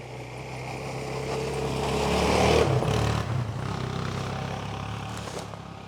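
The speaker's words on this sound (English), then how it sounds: "We don't usually have four-wheelers driving through the woods here." A snowmobile passes through snowy woods, its engine note building and swelling as it comes close around the middle, then easing off as it moves away, steady motor drone throughout with no talking.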